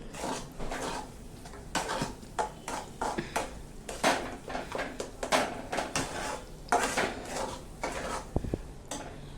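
A spoon stirs a paneer mixture for paneer modak in a pan, making close, repeated scraping and clinking strokes against the metal in a busy, uneven rhythm.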